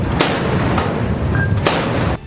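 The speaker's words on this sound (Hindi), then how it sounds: "इसके अलावा इस जंगी जहाज में मौजूद मशीन गन और तोपें भी जमकर आग उगलती नजर आईं।" Warship machine guns and cannons firing during a naval exercise, a loud continuous roar of gunfire punctuated by sharp cracking bursts near the start and toward the end.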